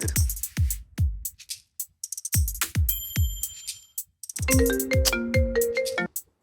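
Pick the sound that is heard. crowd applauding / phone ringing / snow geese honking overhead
phone ringing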